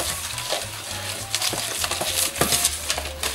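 A poultry marinade with Cajun spices is stirred close up, a continuous wet, gritty swishing with soft scraping strokes and occasional light clinks, fairly even in level with no voices.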